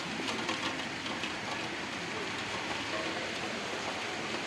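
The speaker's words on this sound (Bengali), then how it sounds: "বৃষ্টি নামছে" Steady rain falls on a rooftop garden with eggplant and green chili plants, a dense even hiss of drops that holds at the same moderate level throughout with no voices.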